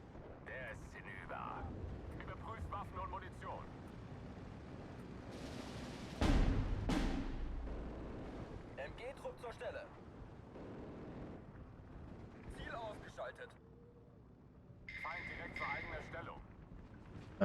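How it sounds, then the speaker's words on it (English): Bombing-strike explosions in the Steel Division 2 war game: a heavy low boom bursts out around the middle, with lighter rumbles and battle noise before and after, under steady talk. "Nice, good bombing strikes."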